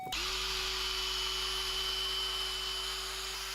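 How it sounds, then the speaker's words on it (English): An electric polisher fitted with a foam pad whirs steadily while polishing a car headlight with polish, a close, constant high-pitched motor drone with no talk. "I'm gonna switch to the foam pad. I'm gonna use a little bit of polish to bring back the factory shine."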